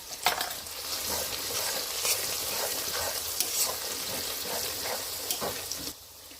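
Ground spices (turmeric, chilli powder, coriander and cumin) fry with a little water in a pan for mutton curry, giving a continuous close sizzle with scraping and stirring strokes throughout, and the sound cuts off abruptly near the end.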